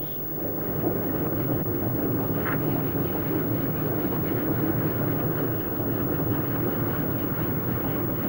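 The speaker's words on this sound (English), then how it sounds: "Every weekday, a goods train runs through from Shrewsbury to Pwllheli, calling at all major stations." A goods train rumbles past steadily and loudly for several seconds on the 1970s Cambrian Coast line in Wales, a continuous heavy rolling noise with faint clatter and no voices.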